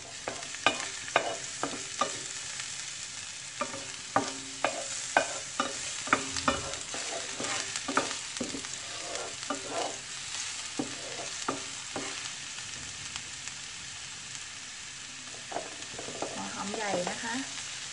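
Garlic and ginger stir-fried in a pan, a steady sizzle broken by repeated scraping stir strokes, close and continuous with no talk.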